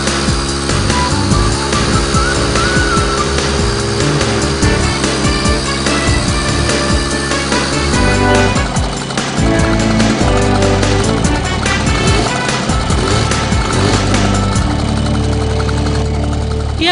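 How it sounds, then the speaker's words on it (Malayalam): A motorcycle engine runs loud and close, a steady throbbing rumble that holds throughout. "എവിടെന്നാ ഈ മോട്ടോർ സൈക്കിള്?"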